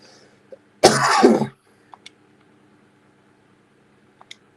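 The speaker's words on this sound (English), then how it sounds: "I don't know why I keep coughing" A single harsh cough, close and loud, lasting under a second, followed by quiet room tone with a couple of faint clicks.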